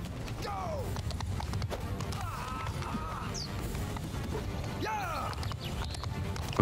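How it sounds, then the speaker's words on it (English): Horse hooves clip-clop up stone stairs during a Mount & Blade II Bannerlord siege, with irregular clattering steps amid a noisy battle din of distant shouts and clashing, steady and fairly busy throughout. "How come the horse can come go up these stairs without an issue?"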